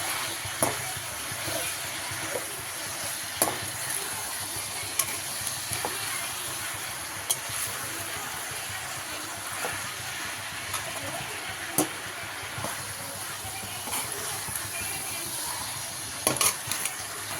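Tomato and peas masala sautéing in oil gives a low, steady sizzle with occasional sharp ticks and spoon scrapes, soft and continuous throughout.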